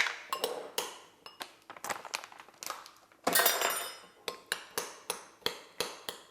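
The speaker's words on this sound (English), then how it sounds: "And we're going to mix that all together." Meatloaf ingredients, including Swerve brown sugar substitute, being mixed in a bowl for a keto meatloaf, with repeated sharp clinks of a utensil against the bowl in an irregular rhythm and a brief denser scraping burst midway.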